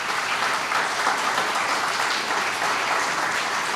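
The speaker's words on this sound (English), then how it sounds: "please give them a huge round of applause." An audience claps together at an Anglo-Indian association's annual rewards and recognition event indoors, a dense, even wash of applause that holds at steady volume from start to finish with no speech.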